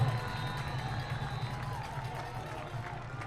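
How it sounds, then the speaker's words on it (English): Football stadium crowd roaring steadily during a fourth-quarter defensive stand in a night game, a broad sustained wash of cheering voices with a low rumble, heard from a distance. "Crowd's getting fired up, asking the defense to get a good stop here."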